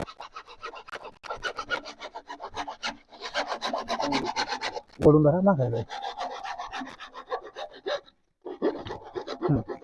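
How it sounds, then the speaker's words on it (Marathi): An old 2.5-inch pipe is cut by hand with a saw, giving close, rhythmic rasping strokes in several bursts with short pauses between them. "त्यामुळे आपण आता हे कापून टाकतोय"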